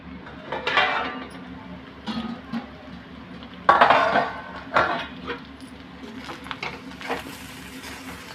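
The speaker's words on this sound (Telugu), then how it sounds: "మూత పెడదాం అండి." A metal lid is set onto a cooking pan of oily food, giving several close clanks and rattles, one sharper clatter in the middle, with scattered kitchen clinks around them.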